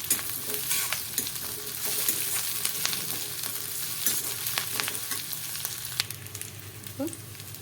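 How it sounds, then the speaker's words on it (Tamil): Curry leaves and coriander leaves sautéing in hot oil for a chutney, a close, constant sizzle with scraping and clinking of a spoon stirring in the pan. "இதையும் சேர்த்து நல்லா வதக்கி விட்டுறலாம்"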